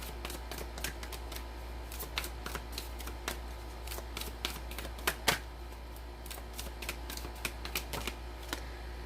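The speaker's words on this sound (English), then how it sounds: "I'll just pull some cards on the tower." A deck of tarot cards is shuffled and cards are pulled from it, giving a string of crisp, close riffles and flicks over a low steady hum. Nobody talks.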